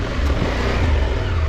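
A KTM 890 Adventure R motorcycle engine roars loudly and steadily at close range for a short burst as the rider lifts the bike over a log.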